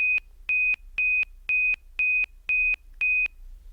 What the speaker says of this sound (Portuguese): quando ele identifica o celular, ele vai acionar o alarme